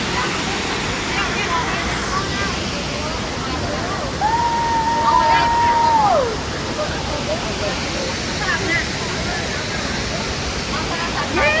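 A waterfall at a Thai tourist spot gives a constant, close rush of falling water that fills the whole clip, with a short whistle-like tone and people talking faintly over the roar.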